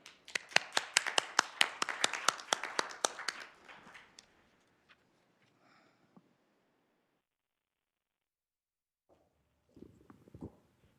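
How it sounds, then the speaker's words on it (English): Sparse applause from fewer than ten people in a nearly empty room at a city address, a few minutes of distinct individual claps for about four seconds, then quiet with faint rustles and a brief shuffle near the end. "at least we have some clapping you can hear"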